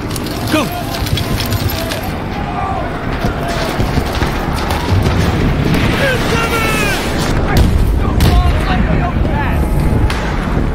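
Mortar fire in Battlefield during a US invasion of Iran, heavy booms and rumbling explosions rolling continuously under loud, chaotic battle noise and shouting voices.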